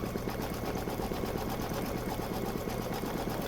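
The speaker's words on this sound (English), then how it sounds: "I always think it's fun to watch the machine stitch out things" An embroidery machine stitches a logo block onto an apron, a steady, dense, fast rhythmic whirring and needle chatter running continuously and close up with no pauses.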